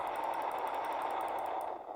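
Rapid automatic gunfire in the video game No Players Online, a fast even burst of shots that fades slightly at the end.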